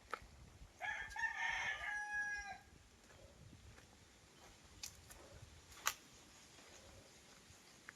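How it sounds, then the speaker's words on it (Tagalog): A rooster crows once on a farmhouse property, faint and distant, for about two seconds near the start, followed by quiet outdoor ambience with a few soft ticks and clicks. "Then may mga alaga silang mga manok."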